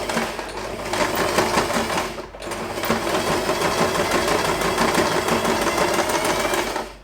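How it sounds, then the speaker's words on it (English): A sewing machine stitching the center of a fabric ribbon bow, running steady and close in a fast mechanical whir, with one brief pause before it starts up again. "Now I can start sewing the center part of the bow."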